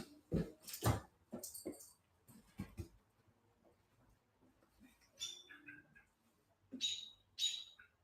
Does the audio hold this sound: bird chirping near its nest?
yes